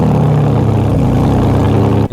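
A BMW 330 Ci engine with a brass exhaust system drones loudly at a steady low pitch, a rich, rumbling note that holds evenly before cutting off abruptly.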